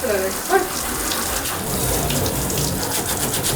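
Water runs steadily from a bathtub tap, a continuous close splashing flow with a brief louder gush near the start, no voices over it.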